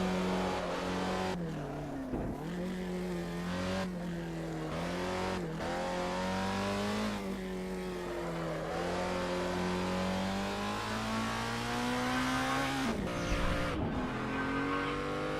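A race car from the Assetto Corsa Dream Pack is driven hard in the racing game, its engine whining up through the revs and dropping sharply at gear changes and corners, with occasional tire squeal, steady and loud throughout.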